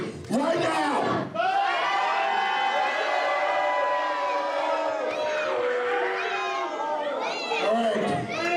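A wrestling crowd boos and jeers a wrestler in a loud, sustained wall of voices, with a short dip before it swells again and keeps going.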